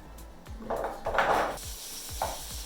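Korean rice cakes drop into a pan of melted salted butter: a few light clatters and scrapes of food and utensil against the pan, then a soft sizzle, near and moderately loud, with no voices.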